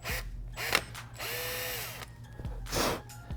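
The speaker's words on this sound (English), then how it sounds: "Using that 3/16 inch drill bit, I'm just going to poke a hole through this undertail." Power drill with a 3/16 inch bit boring through the plastic undertail of a 2012-2016 Honda CBR1000RR, short whirring bursts that rise and wind down with a longer steady run in the middle, close and alone.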